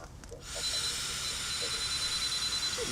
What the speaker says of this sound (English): long continuous blow through this machine until it stops beeping